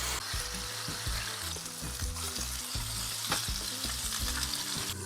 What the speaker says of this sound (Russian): до готовности обжариваю куриное филе